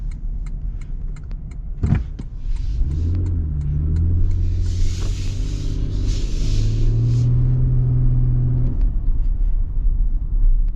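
A 2025 Toyota Tundra TRD Rally pickup, the non-hybrid version, accelerates from a thump into a steady, rising engine rumble and drone heard from inside the cab, moderately loud and continuous.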